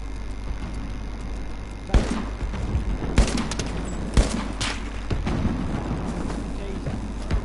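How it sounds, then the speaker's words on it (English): Battlefield gunfire crackles across a noisy battlefield: several loud close shots and bursts stand out over a constant rumble and distant firing, with voices talking now and then. "Shooting."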